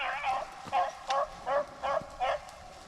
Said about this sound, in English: I just seen one bark.